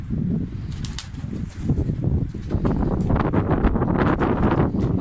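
Continuous rustling flutter of a pigeon's wings beating in flight, close and steady, with breezy wind noise over the microphone throughout.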